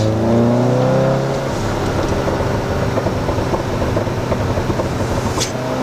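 Inside the cabin of a VW Golf GTI Clubsport with its resonator deleted, the engine drones loud and steady in second gear, its pitch shifting early on before settling into a continuous throaty roar.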